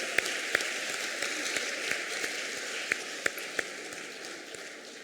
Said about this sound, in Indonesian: kita tepuk tangan sekali lagi untuk adik-adik kita